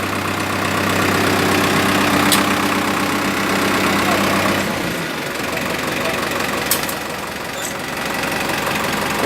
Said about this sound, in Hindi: बहुत प्यारी आवाज़ है ट्रैक्टर की